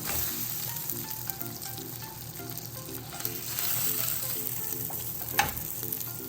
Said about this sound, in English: And I'll let it cook on that side for a couple of minutes. Flip it back over.